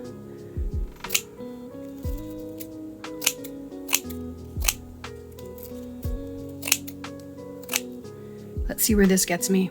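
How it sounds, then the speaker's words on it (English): Scissors snip strips of wall repair mesh tape in a series of sharp, close cuts spaced a second or two apart, with someone talking quietly in between. "So I'll cut strips of this and then get them down."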